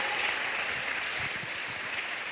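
A church congregation applauds in a steady, continuous wash of clapping that stays even and moderately loud throughout, with no voices rising above it.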